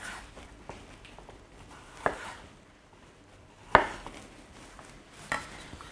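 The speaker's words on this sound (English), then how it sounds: "I'll make use of the skin and just roughly chop that off." A knife roughly chops the skin off fresh ginger on a board, giving three sharp, separated thuds spaced a second or more apart over a quiet kitchen background.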